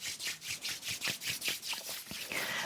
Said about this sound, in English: rubbing the palms together